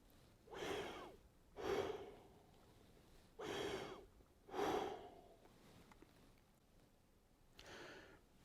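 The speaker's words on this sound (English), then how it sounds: "Put this in between your teeth and take a breath" Five deep, rushing breaths drawn through a PVC coupling held between the teeth, evenly spaced roughly a second apart with pauses between them, each a loud, hollow airy inhale, close to the microphone with no talking.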